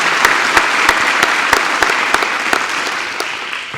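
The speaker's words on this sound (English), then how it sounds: "So let's join me in a round of applause for Natalie." An audience at a foundation's fall grant ceremony applauds steadily, a dense wash of close, loud clapping with a few sharper individual claps standing out, and no talking.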